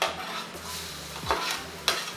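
Garlic dropped into a hot wok sizzles steadily, with a spatula scraping and a couple of sharp metallic clinks against the pan.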